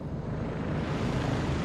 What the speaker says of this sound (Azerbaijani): Burada bir vertolyot var, deyəsən.